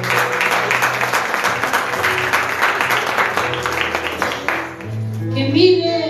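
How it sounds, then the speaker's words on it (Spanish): A church congregation applauds the Lord in a sustained, dense roar of clapping that runs for several seconds before fading as voices and music take over near the end. "brinden un aplauso al Señor"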